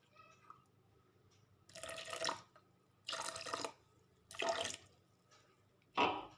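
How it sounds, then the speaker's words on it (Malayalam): Water is poured into a mixer jar of blended carrot juice in four separate short splashing bursts, faint and close with quiet pauses between them. "ഇനി ഇതിലേക്ക് നമുക്ക് വാട്ടർ ഒഴിച്ചു കൊടുക്കാം."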